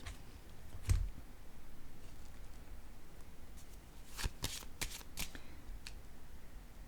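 Tarot cards are handled and shuffled close by, giving a soft papery rustle with a sharp snap near the start and a quick burst of riffling flicks toward the end.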